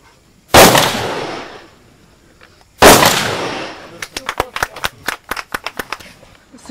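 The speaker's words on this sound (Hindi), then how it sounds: "यहाँ पर आपने बहुत सारी गोलियां चलाई" Rifle fire at an army shooting range: two loud, sharp single shots a couple of seconds apart, then a rapid burst of about a dozen close, crisp shots.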